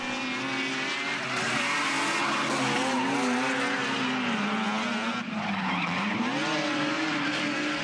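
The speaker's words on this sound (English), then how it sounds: "It's a LS under the bonnet there, and Adam seems very, very comfortable with this car" An LS-engined drift car skids through a drift competition run, its tires squealing and the engine droning loudly and steadily with rising and falling pitch, with no voices over it.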